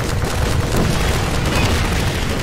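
Continuous roar of gunfire and explosive booms in the first-person shooter Half-Life 2, a dense, loud barrage with no clear gaps between shots.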